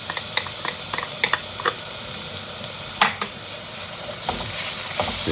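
Garlic paste fries with onions in a pan for a lamb mince filling: a continuous sizzle under repeated stirring scrapes and clicks, with one louder clatter midway.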